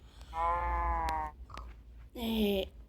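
Sheep in Minecraft Pocket Edition bleat twice, a longer wavering bleat followed after a pause by a shorter one, close and clear with a faint click between.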